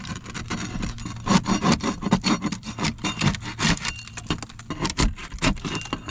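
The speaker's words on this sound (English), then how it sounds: "ASMR paint scraping with taco stacks" Steady scraping of old paint off weathered wooden siding with a hand scraper: repeated rough, gritty strokes close up, with no talking.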